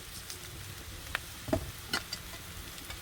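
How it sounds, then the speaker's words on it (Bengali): Soft clinks of a spatula scraping a pan while stirring elephant foot yam curry, a few faint scattered taps over a low sizzle. "আমি খন্তি দিয়ে নাড়িয়ে নিচ্ছি"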